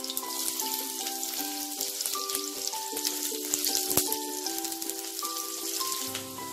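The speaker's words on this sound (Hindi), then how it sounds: "अब मैं इसमें डालूंगी, सबसे पहले डालेंगे हम प्याज, और प्याज डाल के हम सिर्फ हल्का लाल होने तक इसे भुनेंगे।" Onions sizzle and fry steadily in hot oil in a home kitchen pan while cooking a restaurant-style mushroom matar masala, a continuous close crackling hiss with no talking.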